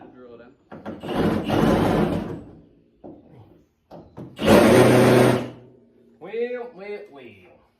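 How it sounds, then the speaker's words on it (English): A power drill whines in two loud sustained bursts, boring out a stuck part during the teardown of a Baja build, with quieter scraping and a voice between runs. "Keep going and drill it out."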